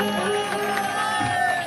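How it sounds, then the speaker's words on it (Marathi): A crowd at a Navratri festival gathering in Konkan cheers and applauds for a small child, a loud, continuous wash of voices and clapping with whoops rising over the din. "एकदा जोरदार टाळ्या वाजवा या लहान बालकासाठी सर्वांनी।"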